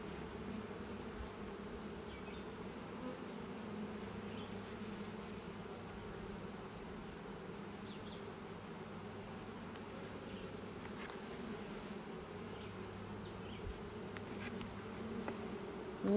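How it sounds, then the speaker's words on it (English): Honeybees droning around hive frames holding brood, a continuous low buzz with a steady high whine running through it, faint and unbroken, with no voices. "Those are the nurse bees tending to the brood."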